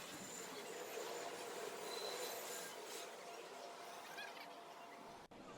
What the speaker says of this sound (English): this 4 train going up to 149th Street Grand Concourse